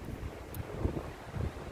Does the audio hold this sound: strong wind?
yes